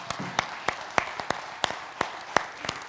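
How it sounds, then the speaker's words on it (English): Scattered clapping from a town hall audience in Sacramento, with distinct individual claps in an irregular rhythm over a light murmur of background room noise. "let's give all of you and all of our participants a great round of applause"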